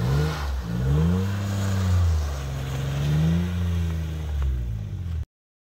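A two-wheel-drive truck with a light back end, running stock all-season tires, pushes through snow, its engine revving and surging steadily for about five seconds before the sound cuts off abruptly, with no talk over it.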